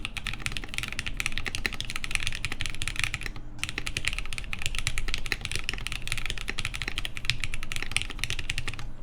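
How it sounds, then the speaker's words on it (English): Fast, continuous typing on a custom Martingale mechanical keyboard build, crisp close-up key clacks with a slight resonance and a brief pause midway, no voices. "There is a little bit of resonance, I think, when you're typing."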